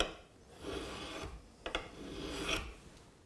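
A burnisher is drawn along the edge of a steel cabinet scraper to roll a hook, making a faint, close scraping rasp in a few strokes with brief sharper catches, with no one talking.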